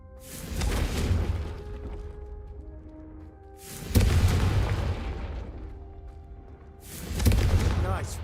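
Confringo spell blasts in the Hogwarts Legacy video game, three booming bursts spaced a few seconds apart, each swelling and fading with low rumble under game music.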